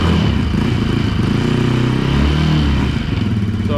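A Polaris Sportsman 110 EFI ATV engine runs steadily after a fuel pump replacement, a loud, close, even buzzing idle that holds with a slight dip near the end.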